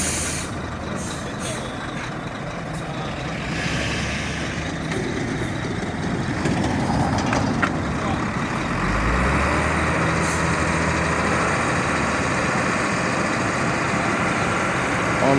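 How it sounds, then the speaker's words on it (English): A Zonda tipper truck unloads red earth at a ring road construction site, a steady heavy engine rumble with hissing air-brake bursts and a low grinding slide, close and continuous, with people talking faintly. "The Zonda tipper is unloading."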